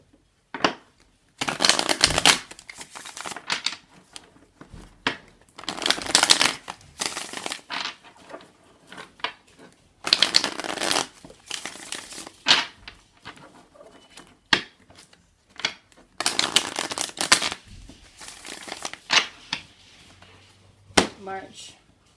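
Hermetic Tarot cards being shuffled in repeated bursts of riffling and sliding, with short pauses and soft handling sounds in between.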